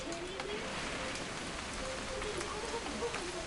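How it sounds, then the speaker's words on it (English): Steady rain patters on a surface, a dense continuous hiss of drops with no talking. "It's gonna rain the whole weekend, isn't it?"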